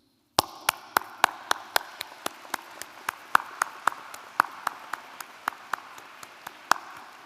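Applause at a university commencement ceremony for a College of the Arts, a run of sharp, evenly spaced single claps close by over faint hall ambience, not a full crowd roar.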